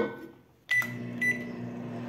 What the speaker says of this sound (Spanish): Voy a meter aquí a mi microondas alrededor de un minuto.